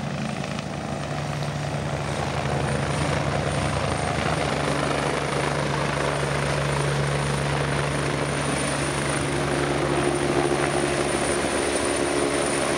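A military helicopter hovers overhead during a fast roping demonstration at a Malaysian public event, with a steady, loud rotor and engine drone filling the whole stretch and barely changing.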